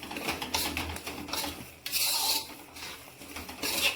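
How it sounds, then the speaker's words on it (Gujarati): Flour and khoa being stirred and roasted in a pan for adadiya pak, giving a steady scraping, rasping rub with repeated sweeps that rise and fall, close by and heard without talk. "આ રીતના સતત એક ધારે હલાવવાથી લોટ અને માવો એકદમ સરસ રીતે મિક્સ થઈ જશે અને શેકાઈ પણ જશે"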